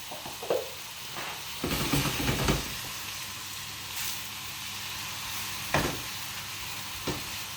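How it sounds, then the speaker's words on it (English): Pork roulades frying in butter in a pan, a steady close sizzle and hiss throughout, broken by a few louder scraping and shifting bursts as the meat is moved, no voices. "So you fry them for about 4 or 5 minutes on each side."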